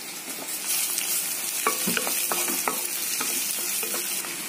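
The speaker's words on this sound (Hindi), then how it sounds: "carrot मुक्कलु capsicum मुक्कलु रेंडु पच्चिमिरपकायलु वेसुकोनि Baga fry चेसुकोवालि" Carrot pieces, capsicum pieces and green chillies frying in a pan, a steady close sizzle with a few clicks of stirring in the middle.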